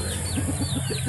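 Chickens being fed small fish and shrimp on a rural farm cluck in short, repeated low bursts over steady background noise, with faint higher bird chirps mixed in.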